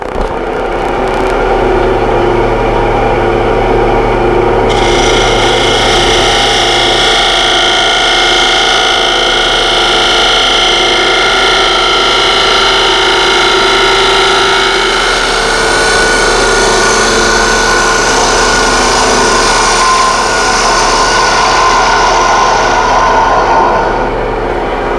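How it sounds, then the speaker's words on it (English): A woodturning gouge with a micro bevel cuts very hard exotic wood on a lathe, giving a loud continuous hiss and whine over a steady low motor hum, with the cutting tone shifting partway through. "using this gouge with a micro bevel, let's try cutting this very hard exotic wood"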